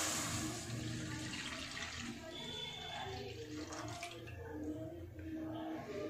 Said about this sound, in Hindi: 1 लीटर दूध को मैं कढ़ाई में डाल रही हूँ।